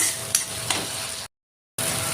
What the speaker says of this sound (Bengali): সব নাড়াচাড়া করে ভালো করে পেঁয়াজটা ভাজা নিমু।